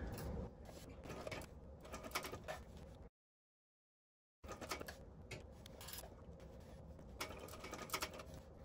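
A sewing machine set to a 5 stitch length runs at speed, a rapid, close mechanical clatter that stops briefly for a moment of silence and then resumes, fairly faint overall.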